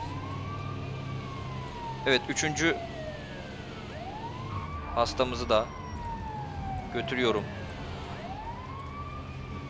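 An ambulance siren from a Turkish ambulance mod in the GTA 5 video game wails in rising and falling sweeps throughout, with someone talking over it in short bursts.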